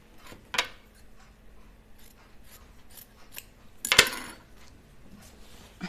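Scissors snip through blouse fabric, with two sharp cuts standing out against quieter rustling and small handling clicks between them.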